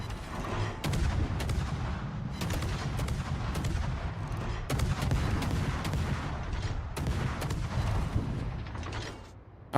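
Ship gunfire in the video game World of Warships, repeated heavy cannon salvos booming at irregular intervals over a steady low engine and sea rumble, with creaking mechanical sounds between shots.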